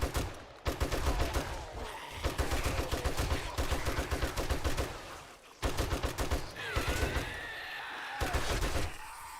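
Rapid bursts of automatic gunfire from the survival video game 7 Days to Die during a winter horde night, loud clustered volleys with short gaps between strings of shots.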